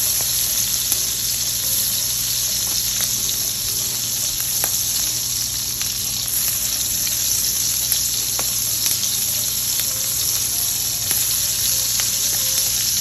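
Beef for Beef Wellington searing in a hot pan, a steady, loud, continuous sizzle with faint crackles and pops, close up and unbroken for the whole stretch, with no one talking.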